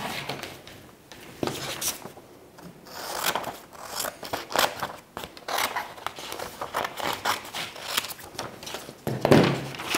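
Scissors snip through a sheet of paper in a series of close, crisp cuts with rustling between them, steady and fairly quiet with no one talking.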